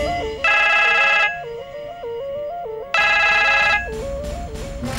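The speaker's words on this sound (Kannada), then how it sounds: "ಬೀಗ್ರು ಫೋನು." A telephone rings loudly in two bursts of bright electronic trilling, separated by a quieter melodic ringtone pattern that keeps running throughout, with no one talking.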